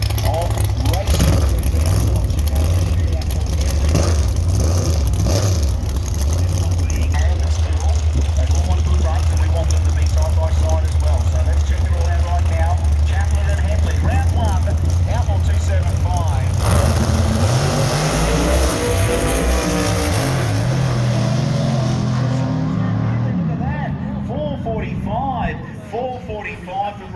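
Drag racing cars for nitrous radial racing, 1/8 mile, line up with a loud, continuous low engine rumble. The rumble drops off partway through, leaving revving and crowd-like noise, and an announcer talks over it the whole time.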